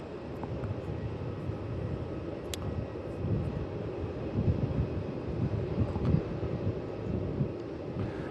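An Air New Zealand airliner departs Melbourne Airport for Auckland, a distant low rumble of engines spread evenly across the whole stretch, swelling slightly midway, with wind noise buffeting the microphone.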